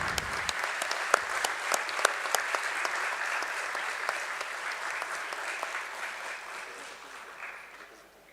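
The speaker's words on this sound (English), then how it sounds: "A round of applause, please." An audience at a stock exchange listing ceremony claps with distinct sharp hand claps over a steady patter, fading gradually toward the end, moderately distant.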